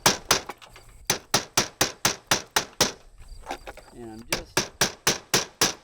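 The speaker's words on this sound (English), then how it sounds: "chiseling away a touch each time, and then I start back at the bottom and work my way up" Hammer striking a chisel to remove wooden interior window trim during a window installation: sharp, rhythmic close taps in steady runs, pausing briefly midway while someone speaks.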